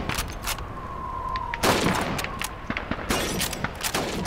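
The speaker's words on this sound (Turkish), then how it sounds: "Shoot those bottles and plates." Rifle shots on a Call of Duty 2 video game shooting range, sharp repeated cracks at irregular intervals hitting bottles and plates, some with shattering, clattering tails, one heavier blast near the middle.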